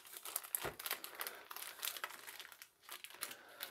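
Old yellowed sticky tape peels and crinkles off a 1990 Kenner RoboCop toy vehicle box, a close, quiet series of rapid crackling rips and rustles with no talking.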